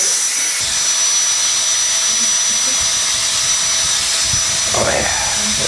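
A JisuLife Ultra2 handheld fan running on max: a loud, steady, high-pitched rushing whine that holds throughout, with a faint shift in tone near the end.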